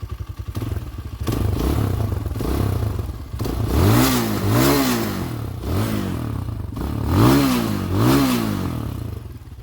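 A Tao TBR7 250cc dual sport motorcycle runs just after a top-end rebuild, its single-cylinder engine idling with a loud, close clatter and rising in several quick throttle blips.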